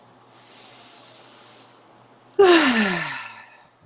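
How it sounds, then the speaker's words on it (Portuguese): A deep breath during a guided meditation: a slow hissing inhale followed by a louder, longer sighing exhale, close to the microphone in a quiet room. "Tome uma respiração profunda inicialmente."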